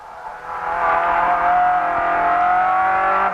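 A Ford Escort RS1800 rally car accelerates hard, its engine note rising steadily and loudly up through the gears with brief dips at the shifts, heard close up with no talk.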